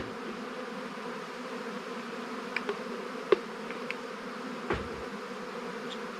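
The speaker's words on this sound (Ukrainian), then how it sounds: "Корпус просто тріщить від бджоли." Honeybees in a hive box packed full of agitated bees buzz in a steady, dense drone close by, with occasional faint knocks and clicks over the continuous hum.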